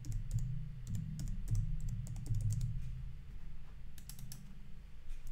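Typing on a computer keyboard while overwriting text in the Canva design tool, a run of quick, light key clicks in uneven bursts, close and fairly quiet over a low background hum.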